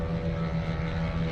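A Cri Cri twin-engine aerobatic light airplane, two 12-horsepower engines, drones steadily with a dense, buzzing propeller roar that stays constant and fairly loud throughout.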